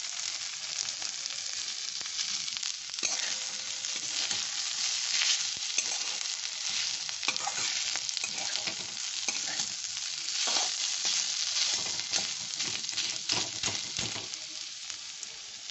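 Boiled chicken stir-fried in a pan sizzles loudly and continuously for a long stretch, with frequent scraping stirs and crackles close by and no voices.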